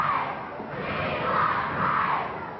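A wrestling crowd in an arena chants in unison, a loud, rhythmic group shout rising and falling in repeated waves across the whole stretch, with no other voices standing out.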